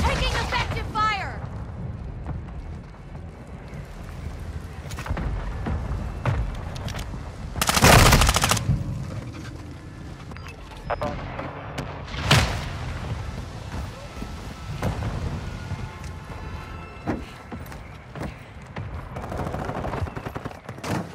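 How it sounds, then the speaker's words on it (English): Gunfire and battle noise in the video game Call of Duty: Modern Warfare 2: scattered shots and bursts over a constant rumbling, windy background, with one loud blast near the middle and another sharp crack later. "Taking effective fire!"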